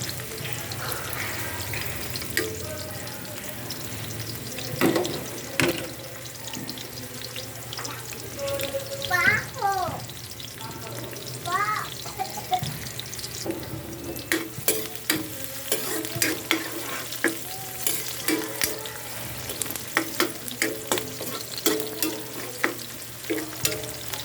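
Ginger, onion and garlic sautéing in a pan for a mung bean stew, a low steady sizzle with scraping stirs and clinks of a utensil, along with brief bursts of running tap water nearby.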